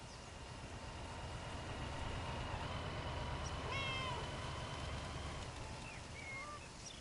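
Several cats meow in overlapping, rising calls over a steady low hum, the cries clustering toward the middle of the stretch and trailing off into fainter mews near the end.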